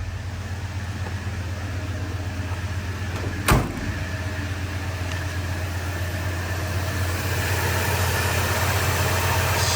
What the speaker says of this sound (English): Let's get out and give a listen to the engine and check out the sound in the rear.